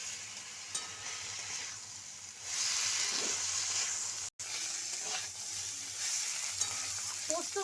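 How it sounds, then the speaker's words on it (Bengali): Vegetables sizzling and being stirred in a pan with poppy seed paste and chili paste, a steady close frying hiss with scraping stirs, no talk. "পোস্ত বাটা আর লঙ্কা বাটা সমস্ত সবজির সঙ্গে খুব ভালো করে কষিয়ে নিয়েছি।"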